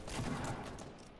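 Faint, muffled burst of gunfire in Fortnite Battle Royale, a short rolling volley of shots heard from a distance, with no talk over it.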